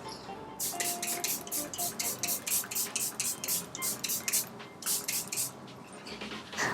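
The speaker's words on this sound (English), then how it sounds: "to set the face, I'm using the Charlotte Tilbury Airbrush Flawless Setting Spray." Charlotte Tilbury Airbrush Flawless Setting Spray is misted in a series of short, quick pump bursts, about a dozen close hissing puffs in rapid succession with brief pauses between them, no talking.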